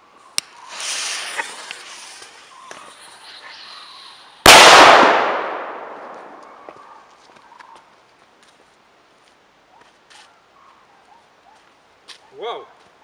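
A Mefisto firecracker explodes against a deodorant can outdoors in one sudden loud blast that rings and decays over a few seconds, with faint background noise and a brief metallic clatter afterward.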